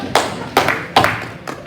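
Audience applause at a Sunday church service, heard as a few sharp, separate claps or taps that come loud and close, spaced about every half second and trailing off.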